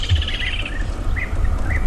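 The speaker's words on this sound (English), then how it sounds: "as you can hear, the birds of Djuma are ecstatic with the change in fortune" Wild birds chirp and call in the bush at Djuma, Africa, at sunset, several short whistled notes rising over a steady low rumble of background noise.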